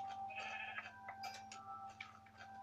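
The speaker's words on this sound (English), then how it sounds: "And kill the sheep for its food." Sheep in a Minecraft-style video game give several faint bleats in quick succession while the player hunts them for food. No one talks over the game sounds.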